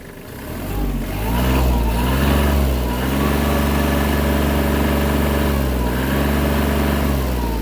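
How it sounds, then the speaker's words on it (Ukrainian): A Kubota KL-25 mini tractor engine runs loudly and steadily, its pitch rising as it revs up and holding at a higher idle, with no voices. "Давайте додам ще обертів."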